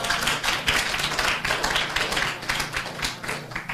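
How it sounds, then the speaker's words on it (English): A small seminar audience gives a round of applause for a visiting speaker, a brief, moderately loud patter of clapping from a modest group of hands, fairly close and steady throughout. "let's give her a round of applause"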